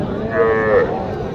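A Sahiwal cow lows once in a single drawn-out moo amid the background bustle of a cattle market, close and fairly loud.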